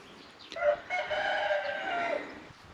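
A turkey on a wintry homestead lets out a single drawn-out, quavering call lasting over a second, moderately close and heard on its own without talk.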